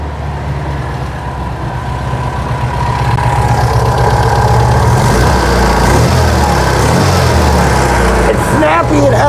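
A 1966 VW Fastback Type 3 engine rumbles steadily at idle after starting, loud and close, holding an even mechanical drone with a slight rise partway through.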